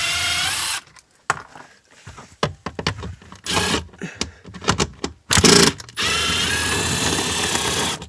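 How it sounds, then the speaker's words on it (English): An impact driver spins out 8mm bolts from the driver's knee panel of an Audi Q5, giving several short buzzing bursts separated by pauses, then longer sustained whirring runs close by. "These are 8mm bolts. Just for speed, I'm going to use my impact driver."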